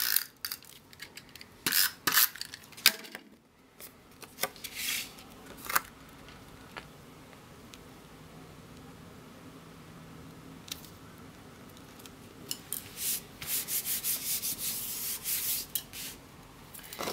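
Stamped cardstock piece pressed and rubbed onto a card front, close dry scraping and rubbing strokes in short bursts, a quiet stretch in the middle, then more sustained rubbing near the end.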